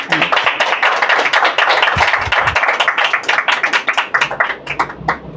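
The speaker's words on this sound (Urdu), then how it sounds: "زوردار تالیاں بجائیں گے" A church congregation claps loudly together at a Pentecost service, a dense burst of applause that thins into scattered, uneven claps toward the end.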